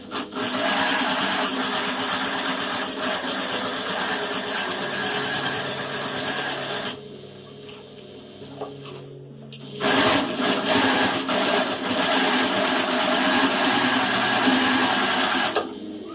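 A sewing machine stitches along the taped edge of a quilt, running loud and steady, pausing for about three seconds midway, then resuming its continuous whirring rattle.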